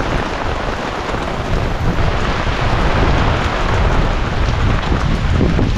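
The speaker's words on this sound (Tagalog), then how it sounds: "Bigla na lang bumuhos ang malakas na ulan." Heavy rain pours down steadily and loudly in a rural setting, a dense unbroken roar of water with low rumbling that suggests thunder mixed in, no voices.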